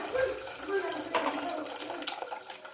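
Tap water runs and splashes into a vessel of black gram lentils, a close, uneven gush with brief spattering bursts, while a voice speaks softly underneath.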